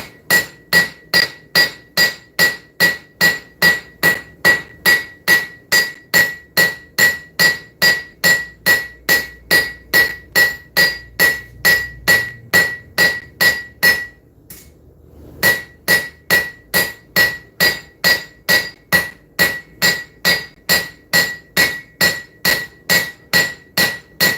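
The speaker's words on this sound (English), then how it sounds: "I need to come in here with the cross peen and go all the way down the blade" Steady, rapid hammer blows of a cross peen hammer on hot steel while forging a blade, ringing metallic strikes in an even rhythm, with a brief pause midway before the pounding resumes.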